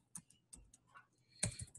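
A few scattered keystrokes clatter on a computer keyboard, sparse and close, ending in a louder burst of clicks.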